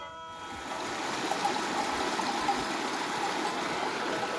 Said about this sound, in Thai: อันนี้ทางสายน้ำแม่น้ำในหมู่บ้านนะ แหล่งน้ำลำห้วยเราเลี้ยงวิถีชีวิตชาวบ้าน